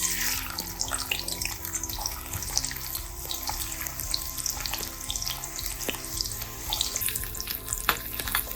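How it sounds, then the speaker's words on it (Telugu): Onions and green chillies fry in a pan for a raw mango and prawn curry, giving a steady close sizzle and crackle throughout, with occasional stirring clicks and no talk. "ఇప్పుడు ఈ ఉల్లిపాయల్ని పచ్చిమిర్చిని వేసి దోరగా వేయించుకుందాం"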